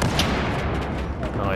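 Grenade blast in Battlefield 4 Operation Metro gameplay: dense, rumbling explosive bursts and crackling gunfire fill the moment, loud and close, with a player's voice over the action.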